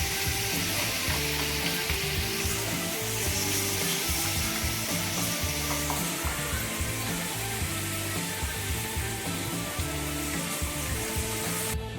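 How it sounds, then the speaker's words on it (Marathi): Garlic frying in hot oil in a pan while making homemade mango pickle, a loud, steady sizzle with stirring scrapes running continuously throughout, no voices. "लसणाला पूर्ण लाल होईल तर पूर्ण तव्यामध्ये तळणार आता."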